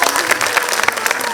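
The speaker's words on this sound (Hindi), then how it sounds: "तो मैं चाहूँगी उन सब के लिए जोरदार तालियां हो जाए।" Audience applause at a school annual day function, a brief dense burst of many hands clapping with scattered sharper claps, loud and close throughout.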